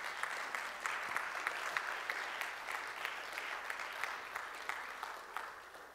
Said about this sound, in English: you need to clap your hands